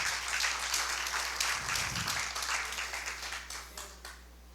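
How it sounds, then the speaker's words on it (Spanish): A church congregation applauds during a Spanish-language sermon, with bursts of clapping rising and thinning over a few seconds above a steady low electrical hum. "Denle un fuerte aplauso al Señor."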